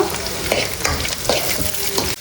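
Chopped onions frying with turmeric in a pan, a steady close sizzle broken by scraping stirs at a regular rhythm, with no voices over it.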